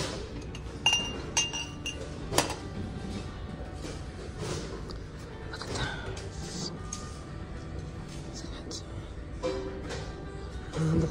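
Glassware clinks and taps as items are handled on a shelf in a thrift store, with scattered light knocks over store background noise and people talking.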